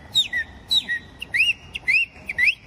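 Bright, high whistled notes come in quick, sliding bursts, each rising or falling in pitch, loud and close with short pauses between phrases.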